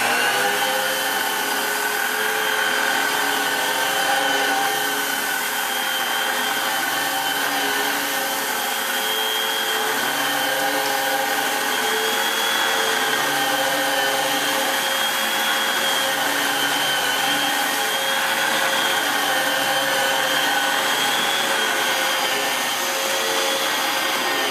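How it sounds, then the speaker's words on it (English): An all-purpose American-made vacuum cleaner runs continuously while being pushed across carpet in several directions, a steady loud whine and rush with no speech over it. "So the first thing that I'm going to do is vacuum over this carpet."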